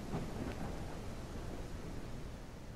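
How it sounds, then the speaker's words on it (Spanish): Steady rain falls with a low rumble of thunder in a fan-made Riot MMO video game set around the Noxus bastion, a dense continuous hiss at moderate level with no speech over it. "No me esperaba esta lluvia."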